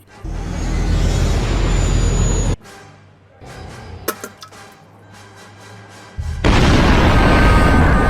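Star Wars explosion effect for the Death Star being destroyed: a sustained loud roaring blast, a sudden drop to quieter crackles and sharp pops, then the heavy roar returning at full strength.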